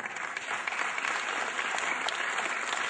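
A crowd at a Hindi poetry recitation claps loudly and steadily, a thick, continuous burst of applause filling the hall for a few seconds with no voices over it.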